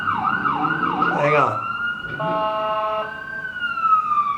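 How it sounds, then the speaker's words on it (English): Ambulance siren passing outside in New York City, loud wailing sweeps shifting into a rapid yelp and then a steady tone, with someone briefly speaking over it. "Got an ambulance outside, man."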